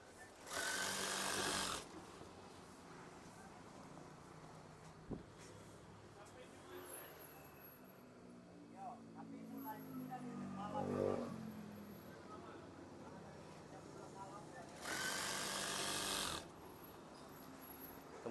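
A sewing machine stitches curtain fabric in two short whirring bursts, one at the start and one near the end, with a quiet stretch of handling and a voice in between.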